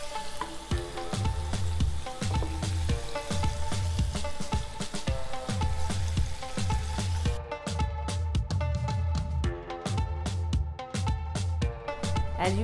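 Shrimp in a honey garlic stir fry sizzle loudly and continuously in a hot pan, close up and without talk, over a steady rhythmic backing beat.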